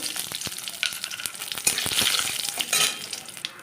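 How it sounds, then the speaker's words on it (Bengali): Bay leaves, a dried red chili and cumin seeds crackle in a little hot oil as the tempering for a moong dal, a close, busy sizzle that swells in short bursts. "একটু তেল দিয়ে নিলাম দিয়ে দেবো দুটো তেজপাতা একটা শুকনো লঙ্কা একটু জিরে"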